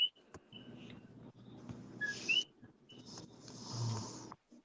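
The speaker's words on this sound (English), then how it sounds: "That's the sound of the frogs chirping in the bay." High, sharp two-note chirps of coqui frogs ring out over a low rumbling drone, with a few whistling calls scattered across a noisy night background on Oahu, Hawaii.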